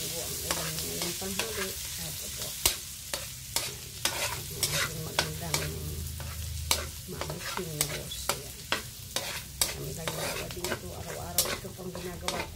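Garlic fries in a kawali for mung bean stew, with a continuous sizzle and frequent rhythmic spatula taps and scrapes that run steadily throughout, close and fairly loud.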